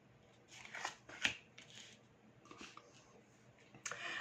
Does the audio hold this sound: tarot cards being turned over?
yes